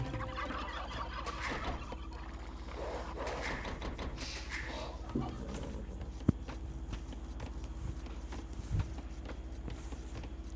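Turkeys gobbling in the Age of Empires 2 video game, repeated game-sound calls over a constant low hum of in-game ambience, with occasional clip-clop and faint clicks.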